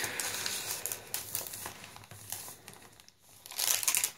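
Sheets of tracing paper in a handmade pink and yellow journal crinkle and rustle as they are handled, soft close-up paper crackling continuing throughout with a brighter burst at the end.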